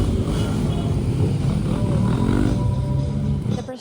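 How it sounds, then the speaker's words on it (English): Motorbikes lead the Victory Day parade procession, their engines forming a loud, continuous rumbling drone of several machines passing close, with crowd noise mixed in. "You can see the motorbikes are the first ones here."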